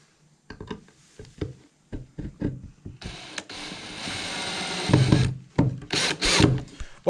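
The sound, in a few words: power drill driving screws into wood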